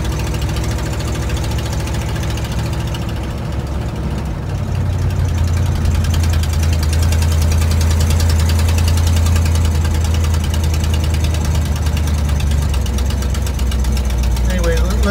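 A 1960 Cadillac hearse engine drones loud and close while driving, a steady low rumble that grows deeper and stronger partway through.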